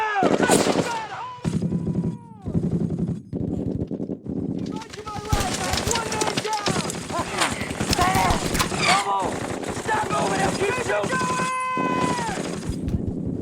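Intense war-drama gunfire from a WWII paratrooper series: rapid machine-gun bursts and rifle shots crackle densely throughout, with soldiers shouting orders over the shooting and explosive reports.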